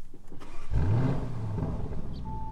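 A Lamborghini Urus engine starting, a starter whir followed by a deep catch and a rising rev that settles into a steady idle, close and clear, with no talking.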